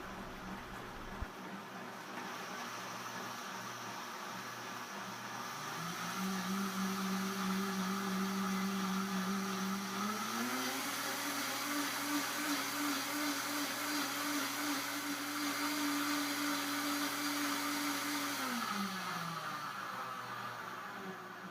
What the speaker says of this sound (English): I'm starting out on variable speed 1 and slowly increasing to the highest speed. And since I use hot broth, I'm only blending for 90 seconds.